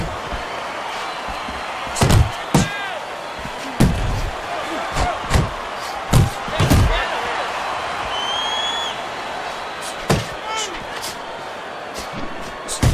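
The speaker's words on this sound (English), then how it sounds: "That's a stinging right hand by Norton" Punches landing in a Fight Night Champion bout between Ken Norton and Larry Holmes, sharp heavy thuds arriving singly and in quick combinations over steady crowd noise, with a commentator talking throughout.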